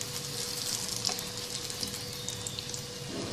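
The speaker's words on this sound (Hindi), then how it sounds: "एक तरफ से कबाब फ्राई हो जाए तो इसकी साइड तब्दील कर लेंगे" Lentil shami kebabs frying in a pan in a home kitchen, a steady soft crackling sizzle with bright hissing spatter and a faint constant tone underneath, fairly quiet and close.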